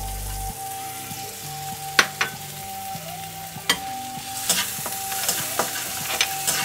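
Two chopped onions fry in a spoonful of white oil in a wok, a close, continuous sizzle broken by several sharp scraping and stirring knocks.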